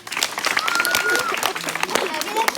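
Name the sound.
audience applause after hypnosis show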